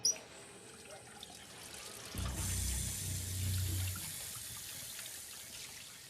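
Water runs and splashes steadily for a few seconds, as if from a tap onto skin, while a burn injury is being washed indoors. The sound is moderately close and quiet, with no talking.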